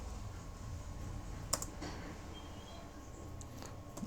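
Computer keyboard typing at a desk while setting up a Linux web server, heard as soft, fairly quiet key clicks with a sharper tap or two against a steady background hum.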